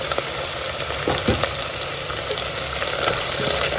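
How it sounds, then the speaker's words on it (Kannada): Chopped onion and fresh green peas fry in a pan, a continuous close sizzle with a few soft stirring scrapes and no voices. "ಕಟ್ ಮಾಡ್ಕೊಂಡಂಥ ಈರುಳ್ಳಿಯನ್ನು ಹಾಕ್ಕೊಳ್ತೀನಿ ಮೊದಲು ಸ್ವಲ್ಪ ಹುರ್ಕೊಳ್ಳೋಣ"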